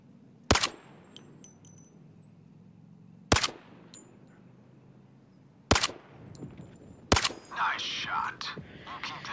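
Four sharp, loud single gunshots ring out at a steady interval of roughly two and a half seconds as targets are fired on in the video game Zero Caliber, followed by brief scattered noise.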